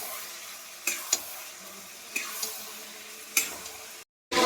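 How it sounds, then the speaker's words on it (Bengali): Spice paste with turmeric and chili powder frying and being stirred in a pan, a steady soft sizzle with a few sharp scraping clicks of the spoon against the pan, close up, ending in a sudden brief silence. "তারপর এখানে হলুদ দেব, লঙ্কার গুঁড়ো দিয়ে ভালো করে আমি মশলাটাকে কষে নেব।"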